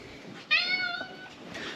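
A house cat meows once, a single clear mid-length meow heard fairly close, over quiet room background.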